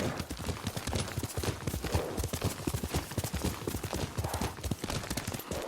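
Rapid, rhythmic hoofbeats of a horse galloping at full speed in the video game Ghost of Tsushima, loud and continuous with a steady drumming pulse throughout.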